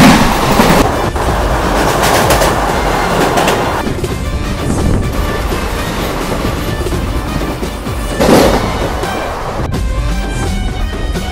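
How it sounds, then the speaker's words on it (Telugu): The Ratnachal Superfast Express runs along the tracks at close range, giving a loud continuous rumble with recurring wheel clatter over rail joints and occasional bursts of rattling. "విజయవాడ నుంచి విశాఖపట్నం మధ్యలో అయితే నడుస్తుంది రత్నాచల్ సూపర్ ఫాస్ట్ ఎక్స్ప్రెస్"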